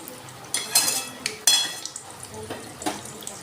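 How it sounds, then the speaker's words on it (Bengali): Pitha made from Gobindobhog rice and coconut frying in a pan, with scattered clinks of a utensil against the pan over a low background sizzle, a few sharp scrapes close by. "আমি এইভাবে পিঠেগুলো ভেজে নেব।"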